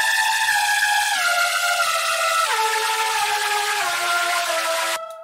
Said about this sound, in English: Next up, we have some bigger screechy synths that are less in the background and more up front.